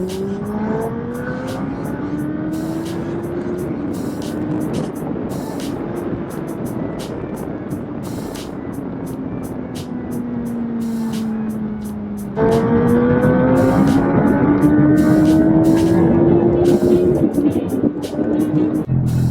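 A Suzuki Hayabusa Gen-3 motorcycle engine is revved and held against its rpm limiter, giving a loud, close, sustained drone with rising and falling pitch and a sharp jump in loudness partway through.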